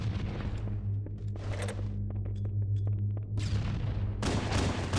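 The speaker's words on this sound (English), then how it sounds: "They shot one rocket." Rocket launcher firing and exploding in a shooter video game, heard as booming, thumping blasts in a dense, noisy mix with a steady low drone underneath, ending in a loud burst of noise.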